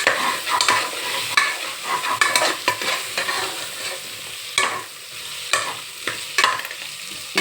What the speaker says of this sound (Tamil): அப்புறம் உருளைக்கிழங்கு போடுறேன். இதை நல்லா ஒரு வதக்கிக்கோங்க.